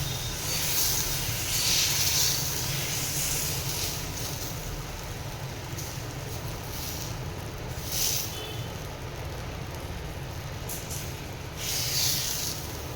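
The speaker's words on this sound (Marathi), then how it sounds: "मी टाकलेलं आहे तव्यावरती पीठ आणि ह्यावरती झाकण ठेवत आहे" A steady soft hiss of flour batter cooking on a hot griddle under a lid, spread without oil, runs evenly throughout with faint occasional brighter puffs of steam.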